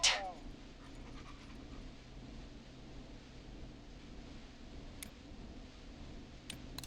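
A dog pants steadily and whimpers in the video game Killer Frequency, a faint, continuous breathy rhythm over a low background hum, with a sharp burst at the start and a few brief clicks.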